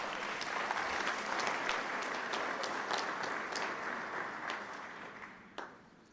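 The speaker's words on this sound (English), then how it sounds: "Give Pastor Mason a huge round of applause as he comes forward" An audience at a Philadelphia city update on the proposed Sixers arena gives sustained applause for a pastor coming forward, a dense wash of clapping that fades gradually toward the end.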